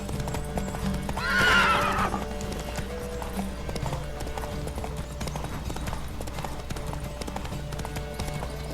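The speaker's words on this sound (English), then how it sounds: "Don't spare the horse!" Horse hooves clip-clop at a steady pace in The Witcher 3 video game. Early on a loud whinny rings out, with a faint hum underneath.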